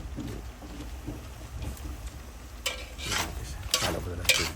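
Garlic sizzling in hot oil in a pan for sautéed pork with vegetables, a steady low frying hiss that grows louder, with bright spattering bursts and stirring scrapes toward the end.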